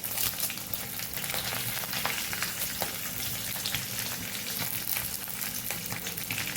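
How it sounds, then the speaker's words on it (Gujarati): Green chilies and curry leaves crackle and sizzle in hot oil during tempering for Kathiyawadi patra bites, a steady dense frying hiss with faint popping, close and continuous with no talk. "એક મરચાના ચાર ચીરિયા કરીને આપણે વઘારમાં મૂકશું આ લીલા મરચું છે એક મીઠા લીમડાની દાળખી આપણે ઉમેરી દઈશું"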